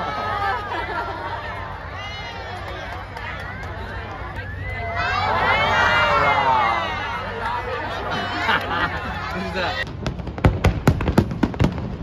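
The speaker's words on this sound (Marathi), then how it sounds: "त्यासाठी फटाकडे वाजवून मस्त वाटत आहे" Firecrackers burst at a Vietnamese Lunar New Year (Tet) celebration in Ho Chi Minh City, a quick run of sharp loud cracks near the end following a long stretch of crowd chatter and excited shouting.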